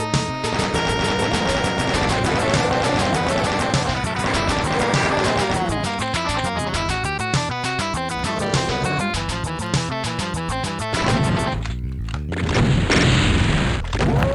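Rocket blasts and explosions from the 1996 Doom game TNT: Evilution, a dense, loud run of booming hits and gunfire over game music, followed by a brief gap and more explosive noise.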